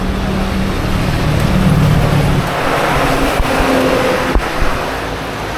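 A jeepney passing on a road, a loud close engine roar that swells and then fades, with a low engine hum shifting pitch and no talking.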